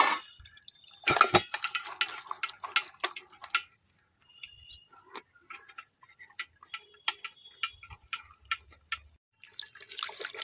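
Water poured over grated raw potato in a strainer drains through, making scattered drips and light ticking splashes, busier at first, then sparse, then picking up again at the end.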